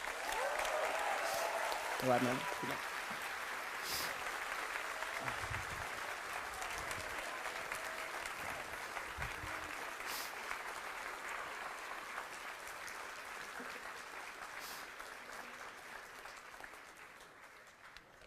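A university audience at a Room for Discussion interview at UvA gives a professor a warm welcome with steady applause. The applause holds evenly for the whole stretch and tapers near the end, and someone speaks briefly over it.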